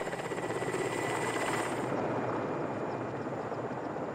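A helicopter carrying supplies roars low and loud over an Arctic campsite, its rotor chop steady and droning, with the high whine dropping away partway through as it passes.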